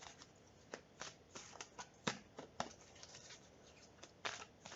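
A deck of tarot cards is shuffled by hand, with crisp riffling and slapping bursts coming in an irregular rhythm, close and fairly quiet, with no talk.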